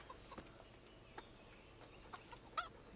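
Chicken clucking in the medieval game Kingdom Come Deliverance, a few faint, short clucks scattered over a quiet ambient background, with one slightly louder cluck near the end.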